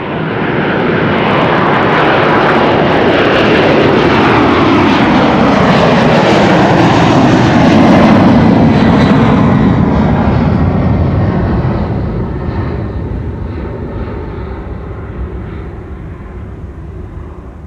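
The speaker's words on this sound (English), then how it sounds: "first 767 is already on its way. United flight 21 to Houston in Texas. 767-300." A 33-year-old United Boeing 767-300 departs Amsterdam Schiphol as flight 21 to Houston, its powerful jet roar building to a loud peak, then slowly fading as it climbs away, with no voices.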